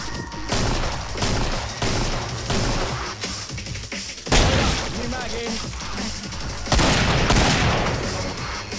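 A big gun in the video game Killing Floor fires loud, heavy bursts one after another, with booming blasts standing out over a constant din of combat and a voice shouting now and then.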